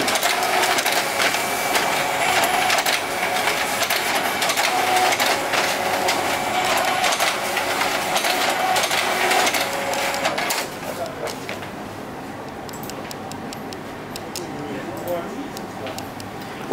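An office document scanner runs through a scan, giving a loud mechanical whirring and rattling drive that drops to a quieter hum partway through.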